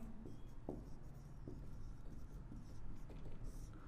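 Chalk or marker writing on a board during a Class 10 maths lesson in Hindi, heard as quiet, irregular scratchy strokes and taps over a steady low background hum.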